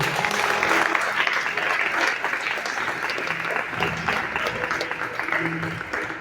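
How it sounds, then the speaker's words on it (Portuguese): A church congregation claps together in sustained, dense applause that stays at an even level for several seconds, filling the room with a continuous patter of hands. "Você pode aplaudir ao Senhor?"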